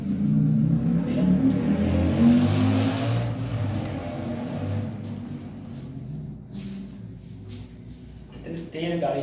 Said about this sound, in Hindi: इतनी तेज गाड़ी चलाते हैं आवाज